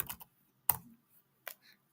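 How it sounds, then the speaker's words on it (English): Keys on a computer keyboard are pressed at a command prompt: a few sharp, distinct clicks separated by pauses, close and clear in an otherwise quiet room, with no talking. "Now, if I type in commands"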